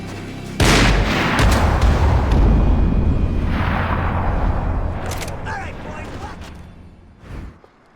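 Max Payne 3 gunfight, a loud burst of booming gunfire and heavy blasts that start suddenly and roll on for several seconds before fading, with a voice partly heard under the din.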